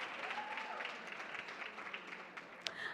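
An AWS Summit 2024 conference audience gives another round of applause for Melvin, his mom and Mama Agnes: a soft, distant, steady patter of many hands clapping, fairly faint throughout.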